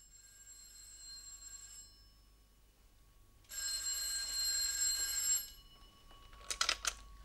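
In a radio drama, a telephone bell rings in two clear bursts, a long ring and then a shorter pair of rings, over a quiet background hum.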